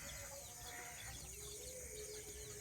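Chickens cluck and chirp faintly in a steady, noisy outdoor background, with no voices.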